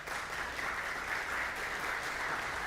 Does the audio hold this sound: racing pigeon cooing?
no